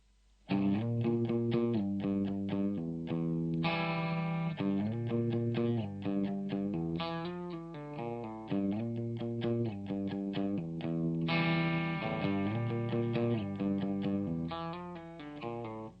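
A distorted electric guitar plays a riff, fast chugging power chords and quick melodic runs, loud and continuous with no voices.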